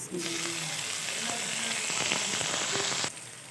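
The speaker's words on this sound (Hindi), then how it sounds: "अब मैं इसके अंदर ये टमाटर और सब्ज़ी मिर्च शामिल कर दूँगी" Tomatoes and chilies hit a pan of browned onions, setting off a loud, steady sizzle that bursts up at once, holds for about three seconds, then drops back to a quieter simmer.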